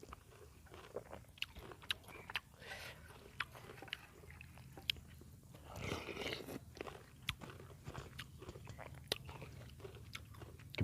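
Khanom jeen rice noodles eaten with chilli, close wet chewing and soft bites over a steady low background hum, with occasional sharper clicks and a louder moist burst midway.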